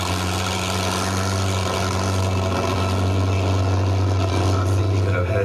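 A racing boat's engine gives a loud, steady roar with a deep droning exhaust note, constant and close throughout, with no pauses.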